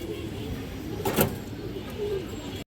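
A female pigeon of an old high-quality breed coos softly, a brief low murmur under faint background noise.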